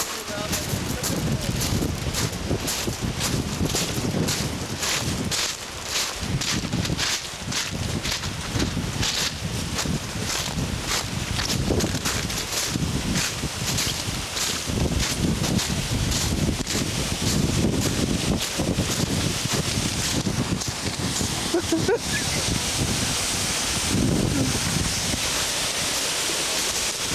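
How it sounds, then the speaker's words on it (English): Steady wind roars and buffets the microphone on the beach at Sandcut Waterfall near Sooke, with surf and rushing water blending into a constant loud wash; no one speaks. "So here we are at Sandcut Waterfall on the beach"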